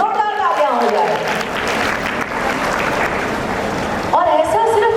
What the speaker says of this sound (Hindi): तो इस जोड़ी के लिए भी, इस दोस्ताने के लिए भी जोरदार तालियां हो जाए।